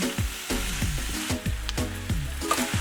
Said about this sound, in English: Stir in for a final few minutes until the veg are as crisp or as squishy as you like them